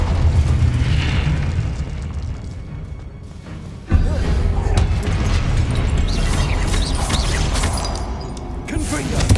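A Confringo fire spell bursts in Hogwarts Legacy with a sudden booming blast partway through, over a loud rumbling game din as a voice talks.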